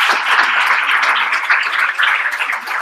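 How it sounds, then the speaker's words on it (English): Audience at a SourceCon South Africa conference breaks into loud, sustained applause, many hands clapping densely and evenly for the whole stretch with no voices over it. "Lots of people clapping."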